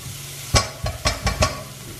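Garlic and bacon browning in a pan sizzle with a soft steady hiss, broken by four or five sharp stirring scrapes close by.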